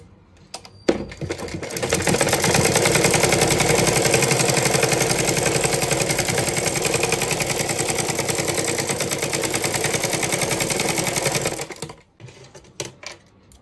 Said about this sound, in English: let's sew this part.